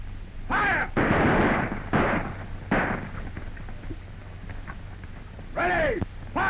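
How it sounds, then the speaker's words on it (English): Rifle volleys crack out in a 1936 western battle scene, several loud sharp bursts with echoing tails spread across the stretch, separated by quieter gaps. "Sound off the volley. Ready. Fire!"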